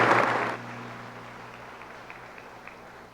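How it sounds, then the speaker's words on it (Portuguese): Applause for newly confirmed young people inside a church, a brief burst of clapping that quickly fades into a long, reverberant room decay with a low steady hum beneath. "uma salva de palmas a eles"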